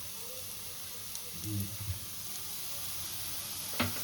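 Potatoes frying in a pan for a pasta dish give a quiet, steady sizzle with a couple of soft stirring clatters partway through and a brief knock near the end, faint and without talk.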